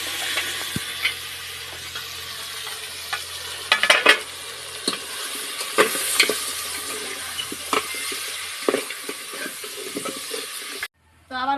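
Goat leg meat sautés with cumin paste, green chilli paste and ginger paste, making a continuous sizzle broken by frequent clattering stirs and scrapes of the spoon. It cuts off briefly near the end.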